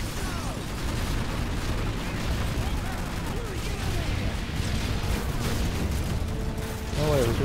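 Rapid, continuous gunfire and explosions from a Modern Warfare 3 match, dense and loud throughout with a sharper burst near the end, mixed with game sounds and voices.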